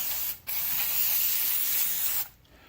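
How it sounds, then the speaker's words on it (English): Non-chlorinated brake cleaner sprays from an aerosol can onto a cross-drilled, slotted rear rotor of a 2014 Ford Focus, a close, loud hiss in two bursts, the longer one lasting nearly two seconds. "I prefer brake cleaner that's not chlorinated, but you can use whatever you want."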